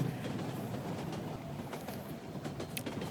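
Rolling train wagons in a video game set on a Russian-style railway, a steady rumbling run with faint clickety-clack rhythm throughout, moderately loud and without talk.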